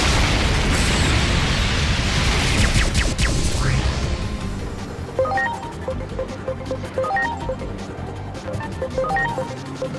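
A Dark Explosion attack in the video game Digimon Story Time Stranger, a loud booming blast with sweeping whooshes in the first four seconds, then fading into scattered sparkling chimes and tones over a continuing rumble.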